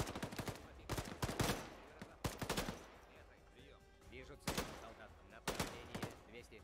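Bursts of PKM machine gun fire in ARMA 3, set in an Afghan convoy ambush, with several loud rapid volleys separated by short gaps and quieter distant shots between them.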